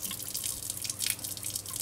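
Water runs from a faucet to flush the pipes during water sampling, a continuous splashing hiss with dripping, steady and close with no voices.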